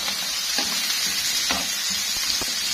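Onions fry in a little oil in a pan, a steady close sizzle and hiss with a few soft stirring scrapes through it and no talking.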